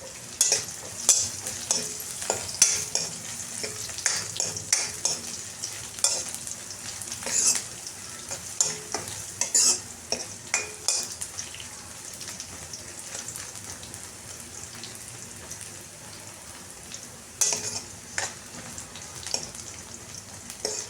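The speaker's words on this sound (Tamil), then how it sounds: "அப்படியே கொஞ்சம் லைட்டாக வெங்காயம் வதக்கினா சரி, நல்லாயிருக்கும் சாப்பிட." Onions sautéing in a pan for a simple mor kulambu, a steady close sizzle with recurring scrapes and clicks of a spoon stirring throughout, no voices.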